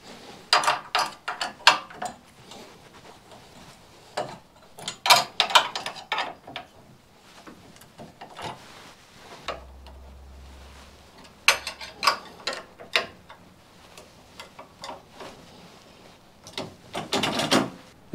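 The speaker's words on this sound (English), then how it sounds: "so we're going to loosen that rear bumper off" Loosening the rear bumper bolts on a racing kart with a ratchet tool produces bursts of quick metallic clicking and ratcheting, close and moderately loud, separated by short quiet pauses.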